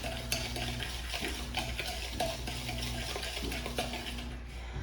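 A spoon stirs dry ingredients around a bowl, including flour and a pinch of salt, making a close, continuous scraping and rustling with soft rhythmic knocks against the bowl. No one speaks.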